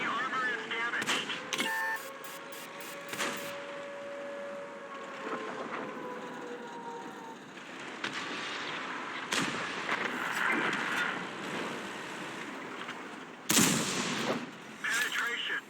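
Tank cannon fire in World of Tanks, with several sharp, loud blasts spread through a busy battle bed of rumbling engines and tonal whines. Talk sits under the action.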